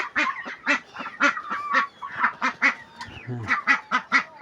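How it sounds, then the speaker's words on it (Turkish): Farm ducks or geese honking and quacking in a rapid, steady series of close, loud calls, with no talk over them. "Şöyle ördeklerimiz var arkadaşlar."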